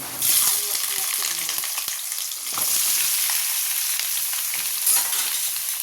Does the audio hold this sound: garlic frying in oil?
yes